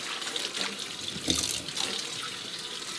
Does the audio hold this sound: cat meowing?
no